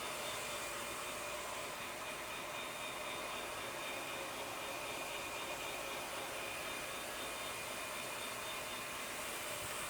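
A Shark steam pickup mop runs steadily across the floor as it cleans dried ketchup and set-in dirt, a continuous broadband whirring hum held at a constant level with no voices.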